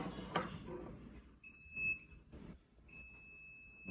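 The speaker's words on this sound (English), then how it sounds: "This tester here that I showed earlier will beep and light when there's power present." An electrical voltage tester sounds two steady high-pitched beeps, each about half a second long, while being checked on a fluorescent lamp fixture being converted to LED, with faint handling noise between the beeps.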